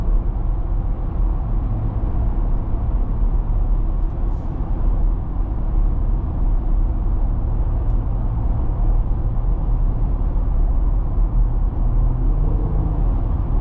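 A 2023 Jeep Wrangler Rubicon two-door on the road, with a steady, continuous low engine and road rumble from inside the cabin that holds an even level throughout.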